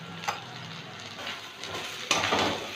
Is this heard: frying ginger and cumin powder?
yes